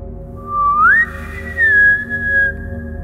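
A lone, thin whistle slides slowly upward and then hangs on a long, wavering tone, sounding eerie against a quiet low hum.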